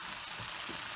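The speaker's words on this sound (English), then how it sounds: "Still kind of sweating the onions and potatoes." Onions and potatoes sweating in a pan give a steady, soft sizzle and faint crackle, close by and fairly quiet, with no voices over it.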